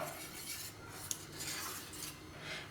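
Rava dosa batter is mixed with water in a bowl, a soft continuous scraping and stirring with a light clink of a utensil against the side partway through, close and steady with no talking.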